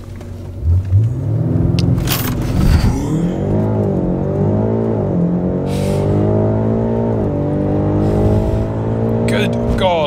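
A 700+ horsepower BMW M5 F90 engine revs and accelerates with rising, rumbling harmonics, loud and close, pulling hard through gear changes while people talk over it.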